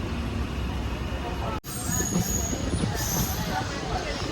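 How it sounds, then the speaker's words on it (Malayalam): A train creeping slowly along the scenic Shoranur–Coimbatore route near Walayar in monsoon, a close, steady rolling rumble with light wheel squeal, briefly cut by a sharp dropout before the running noise resumes. "ഇവിടെ ട്രെയിൻ പതുക്കെ പോകുന്നതുകൊണ്ട് തന്നെ നമുക്ക് നല്ല രീതിയിൽ ഷൂട്ട് ചെയ്യാൻ പറ്റുന്നുണ്ട്"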